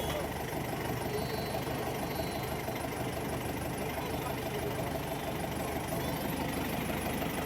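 A boat engine drones steadily as the boat pushes through water hyacinth at Neermahal, Tripura, a continuous, fairly loud mid-low rumble that holds the whole time with no voices.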